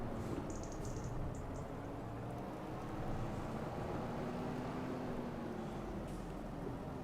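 In Farming Simulator 25, a tractor reverses a baler in winter: a steady, low engine rumble drones continuously throughout, even and unbroken, with no voices over it.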